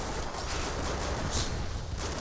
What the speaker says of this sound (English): lIIusion landing going to clean up these units super fast with that Warthog cannon.